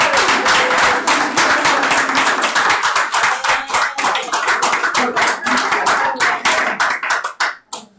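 An audience at a Black history poetry event claps loudly and continuously for several seconds, then the applause thins and fades out.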